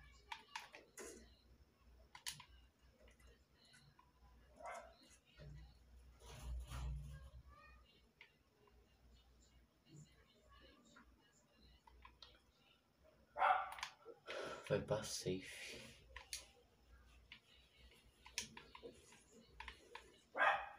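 A dog barks in a video game amid keyboard typing and scattered game sounds, with brief short barks and a player speaking at times.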